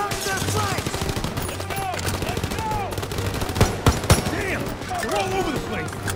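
Machine gun fire in Call of Duty WW2 from a position on a staircase, with sharp cracks and bursts, some close and loud, mixed with shouting voices and battle noise.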